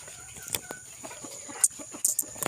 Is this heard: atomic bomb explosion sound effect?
no